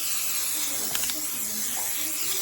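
Cooking spray hisses in short, close bursts over rolled-up food on a baking tray, a bright airy spritz repeated a few times against a quiet background.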